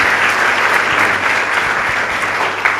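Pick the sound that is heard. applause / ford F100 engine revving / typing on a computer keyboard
applause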